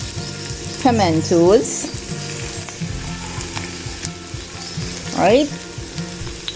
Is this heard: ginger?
yes